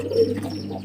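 A cutbray pigeon coos softly and steadily at close range, one low, throaty murmur running through the short moment with no voices.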